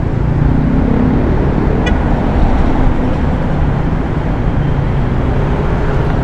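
Road traffic building up near a shopping mall, heard as a steady, loud rumble of passing vehicles with one brief horn toot partway through and no speech.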